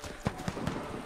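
Footsteps in the Warface video game, three soft muffled thuds in a quick uneven rhythm, faint and a little distant over a low steady background.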